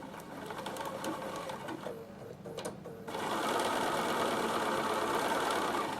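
A sewing machine stitches cotton fabric for a tissue box cover, starting with quieter handling and brief pauses, then settling into a steady, loud, continuous whir of stitching.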